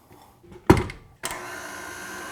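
An electric hand mixer switching on to blend cupcake batter, starting with a sharp whirring burst, then settling into a steady motor hum, close and with no talking.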